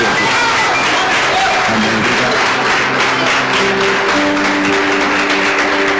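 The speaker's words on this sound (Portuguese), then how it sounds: "se coloca de pé mais uma vez, aplaudindo o nome de Jesus" A church congregation of the Assembleia de Deus stands and applauds, loud continuous clapping mixed with crowd noise and sustained musical tones beneath, with some voices.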